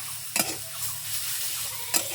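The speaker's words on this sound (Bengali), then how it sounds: "তিতো পাট শাক ভাজা হয়ে গেছে, এখন নামিয়ে নিব।" Bitter jute leaves frying in a pan, a soft steady sizzle broken by two quick scraping stirs, close by with no voices.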